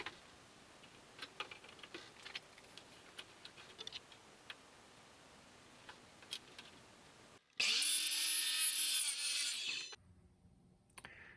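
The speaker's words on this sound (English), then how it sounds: "Now I have to chop them on the miter saw to make sure they're" A miter saw chops maple plywood pieces to length: after quiet ticking and light workshop clatter, a loud high-pitched whine of the blade cutting bursts in for about two seconds, then cuts off and the motor winds down.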